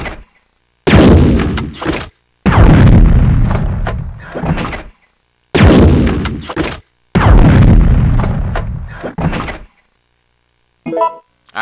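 Burst rounds from a grenade launcher in Resident Evil 3: Nemesis, heavy booming shots in four loud clusters separated by short silences, each trailing into a rumbling decay.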